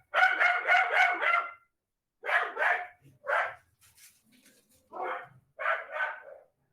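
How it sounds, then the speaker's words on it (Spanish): Several dogs barking in clustered bursts, a rapid volley of barks followed by shorter groups and a few soft low yips between, close and fairly loud with no talk. "Estos son mis perros."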